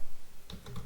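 A computer keyboard is typed on close by during a Laravel tutorial, giving a brief run of three or four crisp key clicks in under a second.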